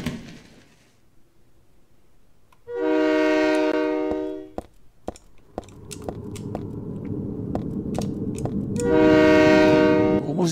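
A train in the Silent Hill 3 video game sounds two loud, sustained horn blasts, one early and one at the end, over a low rolling rumble of railcars with sharp metallic clanks in between.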